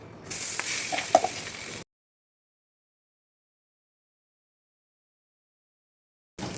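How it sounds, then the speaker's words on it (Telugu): Tofu batter sizzles as it is spread thin like a dosa on a hot griddle, a close hissing crackle lasting under two seconds before cutting to silence. "ఇప్పుడు ఈ పెనం మీద మనం దోశలాగా వేసుకోవాలి"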